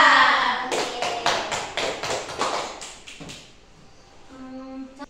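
A quick run of about ten rhythmic hand claps, fairly close, then a short pause as a voice begins speaking.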